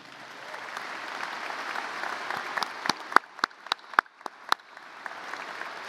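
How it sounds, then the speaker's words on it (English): Crowd applause at a 2022 high school graduation ceremony for newly elected student council co-presidents, building from a broad wash of clapping into a few sharp, close individual claps that then tail off. "A round of applause for them."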